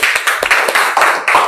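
A group of people in a classroom clap together in a short burst of steady applause, close and lively, with no talking.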